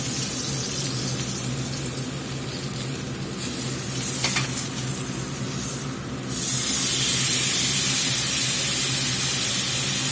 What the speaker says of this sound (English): Make sure you sear that fat cap off.